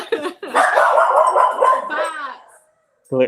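Dogs bark loudly and close by in short bursts at the start and again at the end, with a person talking over the middle stretch.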